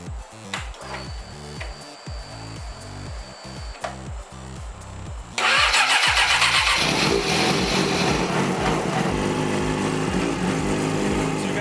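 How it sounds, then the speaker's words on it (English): A 2009 Yamaha R6 sport bike after an oil change, heard first as a rapid cranking chatter of the starter for several seconds, then the engine catching and settling into a loud, steady, buzzing idle close by. "You guys watch for leaks while I turn the bike on."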